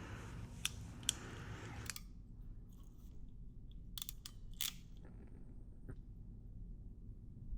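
Wires for a motorcycle ABS on/off switch on a Suzuki DR-Z400SM are trimmed, giving a few quiet, crisp snips and clicks spread across a soft background.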